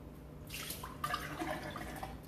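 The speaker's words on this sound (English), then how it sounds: "dip it in water" Water dripping from the rim of a martini glass just dipped in water, a few soft close splashes and trickles over quiet background.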